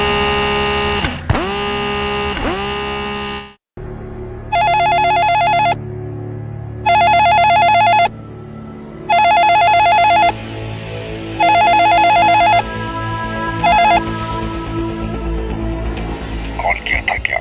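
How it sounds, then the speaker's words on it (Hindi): Telephone ringing in a series of repeated electronic ring bursts, each lasting about a second and a half with short gaps between them, loud and close, with a low music or background bed running underneath and a brief voice before the rings. "जब अपुन ने रिंग किया तो फोन उठाने में लेट क्यों होता है भाई?"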